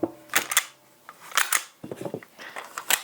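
A Walther PDP Pro pistol slide is slid back onto its frame, a few sharp metallic clicks and scrapes in quick clusters, close and fairly loud with no talk.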